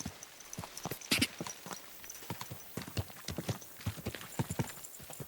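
Horse hooves clip-clop at an uneven walking pace on a hard surface in Kingdom Come: Deliverance II, steady and moderately close, with no talking.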